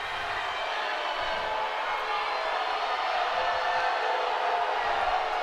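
A large crowd at a high school varsity football game murmurs and grumbles in a steady, even wash of noise after a disallowed call, with no sharp cheers standing out.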